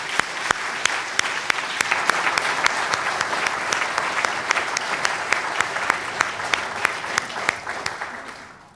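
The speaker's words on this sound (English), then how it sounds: "Let's do it again. Let's applaud our..." A congregation at a Unitarian forum on mindfulness claps steadily, a full, even spread of many hands with a few sharp nearby claps standing out, tapering off at the close.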